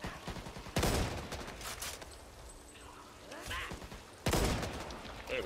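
Gunfire rattles in the Back 4 Blood video game, with two loud bursts of rapid shots and fainter shooting between them. Someone talks over the shots.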